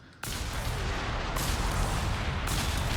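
A Walking Stuka rocket artillery barrage in Company of Heroes 3 fires at a Panzer IV. It opens abruptly into a loud, dense, continuous roar of rocket launches and explosions that never lets up.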